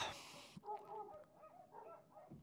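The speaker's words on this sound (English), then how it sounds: "dogs barking outside" Dogs barking outdoors, a few yips and whimpering barks heard faintly at a distance, muffled and low in level after a brief burst of noise at the start.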